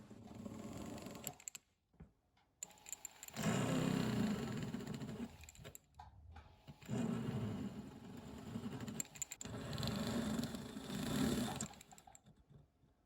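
A hand graver cutting stone seats into a vintage white gold diamond ring, close scraping and rasping in several bursts separated by short pauses.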